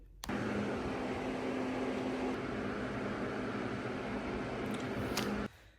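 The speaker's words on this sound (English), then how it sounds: "I'm sitting under the dryer now" A sit-under hood hair dryer runs as a steady, loud, close whoosh of blowing air for several seconds, then cuts off abruptly.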